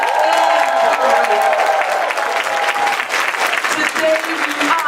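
Loud, sustained clapping fills a hall as an audience applauds in honor of Dr. Dorothy Height, dense and even throughout, with faint voices mixed in.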